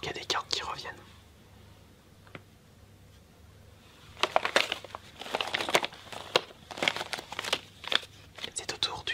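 Yu-Gi-Oh booster pack foil wrappers crinkle and tear in close, quiet bursts, with soft whispering between the rustles.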